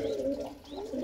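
A male pigeon of good breeding quality coos in two soft, throaty rolling phrases close by, with faint background noise.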